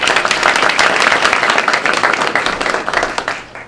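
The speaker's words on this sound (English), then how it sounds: "we should really give them a round of applause for the children" A council-meeting audience applauds the children, dense hand clapping filling the room at a steady loud level before tapering off at the end.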